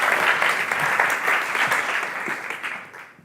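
An audience at the City Science Summit 2024 gives a sustained, dense round of applause that holds steady and then tapers off near the end.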